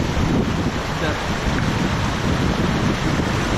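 Rushing water of a mountain stream on a trek in the Tien Shan's Shamsi valley in Kyrgyzstan, a steady broadband roar close by, continuous without breaks and with some wind buffeting.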